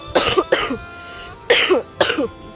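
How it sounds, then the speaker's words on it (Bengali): A person with a persistent cough coughs four times at close range, in two quick pairs of harsh, loud bursts. "কাশি তো রয়েছে কথা বললেই যেন কাশিটা শুধু বেড়ে আসে"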